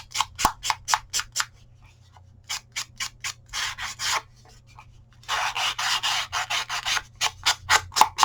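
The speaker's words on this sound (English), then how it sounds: "I'm just using a sanding disc on the Pouncer" Repeated short rasping rubs of a sanding disc against a soft ink pouncer, coming in quick bursts with brief pauses, then a longer sustained scrubbing stretch, close and fairly loud.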